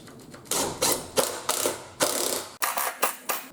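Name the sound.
screw being driven into cargo trailer wall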